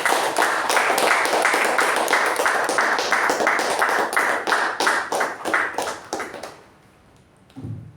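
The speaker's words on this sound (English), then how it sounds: "Let's give her a very good round of applause." Members of a Toastmasters club meeting applaud a speaker with loud, steady, evenly paced clapping that thins out and stops after about six and a half seconds, followed by a brief quiet and a short knock.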